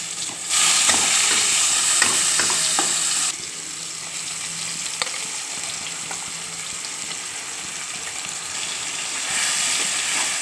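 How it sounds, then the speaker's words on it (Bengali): Ginger, chili, tomato and garlic paste stirred into hot oil with onions while cooking a pomfret (rupchanda) fish curry, giving a steady close sizzle with scraping spatula strokes that settles to a quieter fry. "তো আমি ভালো করে নেড়ে নেব।"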